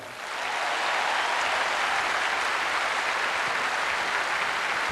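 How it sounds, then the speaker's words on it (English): The Wimbledon crowd gives Rod Laver a huge ovation, dense sustained applause from a large stadium audience that swells in quickly and holds steady, with no talk over it. "Huge applause, and in the crowd many who would never have seen him play."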